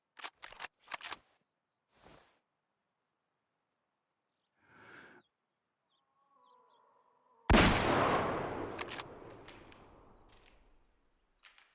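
A single loud rifle shot fired at a boar in a hunting video game rings out, then a long echoing decay, after a few scattered sharp clicks and small rustles beforehand.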